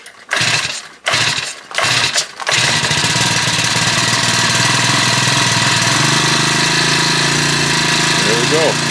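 A small Honda WX10 water pump engine running with no hose attached, loud and close. A few sputtering pulls lead into a steady, rattling idle that continues to the end, with faint chirps near the close.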